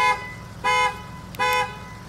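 A car alarm sounds in repeated short tonal blasts, three bursts evenly spaced, moderately loud and outdoors.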